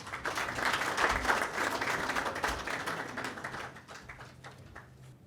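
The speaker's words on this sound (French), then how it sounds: "Je vous prie d'applaudir le ministre René-Emmanuel Sadji." An audience applauds the minister René-Emmanuel Sadji at the opening ceremony of SAGO 2022, a dense, sustained round of clapping from a sizeable crowd that stays loud before gradually thinning toward the end.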